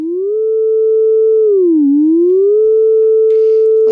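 A steady synthesizer tone holds one pitch, its VCO modulated through an OR logic gate, dips smoothly down and climbs back, then settles, with faint clicks near the end.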